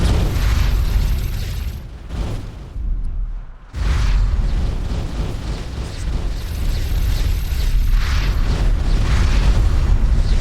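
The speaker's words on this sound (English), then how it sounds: "Well, I don't think I've ever seen an explosion that big." A huge explosion in the space game X4 Foundations, a loud, sustained rumbling roar with mechanical clatter that briefly drops out, then swells back up and keeps thundering.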